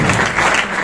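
A crowd bursts into dense, steady applause at a New Year celebration in Rohtak, the first gathering at Guru ji's Wonder World; a brief, loud wash of many hands clapping at once, with no voices standing out.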